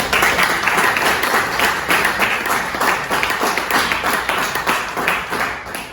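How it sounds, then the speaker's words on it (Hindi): Audience members at a celebration program clap hard and steadily for about six seconds, giving a dense, loud patter of hands that eases off slightly at the very end. "ताली लगाना जोर से सर।"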